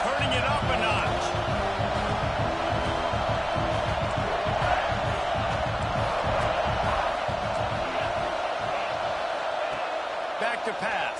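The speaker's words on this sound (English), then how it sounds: "this crowd is turning it up a notch" A football stadium crowd during a game, a dense continuous roar that stays loud and steady throughout, with an announcer talking over it.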